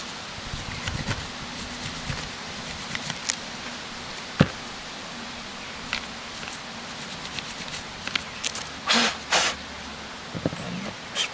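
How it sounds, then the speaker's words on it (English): A brush scrubs around two screws on a tractor carburetor bowl, producing close, irregular rustling and scratching strokes with a few sharper taps and scuffs. "let's get my brush out and clean around these two screws that hold this bowl on."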